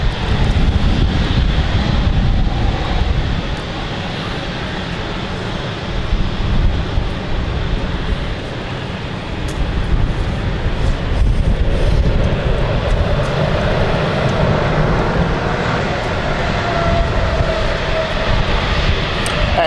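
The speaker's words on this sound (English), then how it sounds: "KLM should be taxiing on stand 3, I believe." A KLM airliner taxis at London City Airport, its jet engines giving a loud, steady roar and whine that swells and eases slightly, with wind buffeting the microphone throughout.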